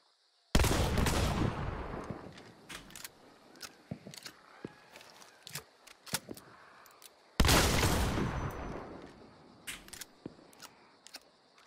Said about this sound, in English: the way that you're used to hearing a Caldwell Rival fired